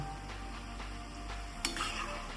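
Steady low bubbling of sakkarpara dough pieces deep frying in oil with faint crackle, broken by a brief clink of a utensil near the end; quiet and close.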